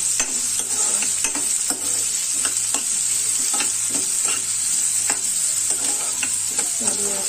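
Onion frying with salt in a pan for a raw banana vegetable dish, a steady bright sizzle under repeated spatula scrapes and taps at an even pace, close and without speech.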